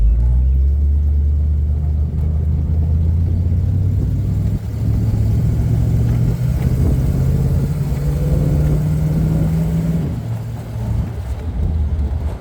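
A 1962 Corvette barn find's engine and original exhaust give a loud, continuous low rumble at a steady idle that swells slightly as the revs rise, with no talking over it.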